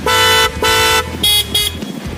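An aftermarket Fugen horn, made in Germany and fitted to a Yamaha NMAX scooter, gives four bright, treble-heavy blasts close by: two longer honks, then two short ones.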